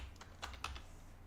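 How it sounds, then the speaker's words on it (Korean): Computer keyboard being typed on, several quick key clicks in a short irregular burst, close and quiet with no talking. "한영키 눌렀네요"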